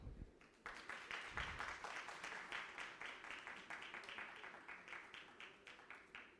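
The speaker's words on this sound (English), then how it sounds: "It's interesting, everybody's just clapping at their own time" Scattered, uneven clapping from a few people at a marketing leaders' conference session in Kolkata, faint and distant, with claps landing off-beat from one another throughout.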